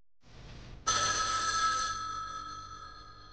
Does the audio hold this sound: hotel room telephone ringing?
yes